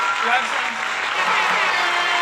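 A live-show audience at a country music night applauds and cheers in a loud, dense wash of clapping that holds steady for a couple of seconds.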